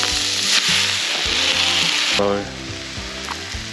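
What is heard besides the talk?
pad thai frying in a pan on a gas stove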